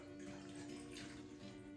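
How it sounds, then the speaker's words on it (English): Purified water being poured into a food processor while making homemade ginger beer, a faint, steady trickle and splash heard alone over a low background hum. "I have some purified water right here, and I'm gonna put about half a cup"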